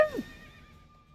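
A short, bright horse whinny from The Witcher video game rings out and trails off, with a faint electronic tone lingering underneath.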